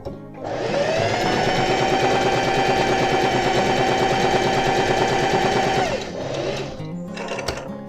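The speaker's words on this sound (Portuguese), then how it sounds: "Você vai costurar e não vai fazer retrocesso. Vai costurar direto." A sewing machine runs a straight stitch through fabric with no backstitch, one loud, continuous, even motor whir lasting about five seconds before it stops, followed by a few faint handling sounds.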